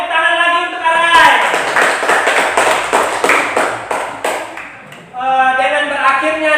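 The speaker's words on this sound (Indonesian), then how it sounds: "tepuk tangan lagi untuk Arai." Children clap together in a classroom for several seconds, fairly loud and close, with a voice talking just before and after.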